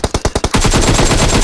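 Rapid automatic gunfire from a Valorant match: a few separate loud bursts at first, then a dense, continuous stream of shots filling the rest of the moment, close and punchy.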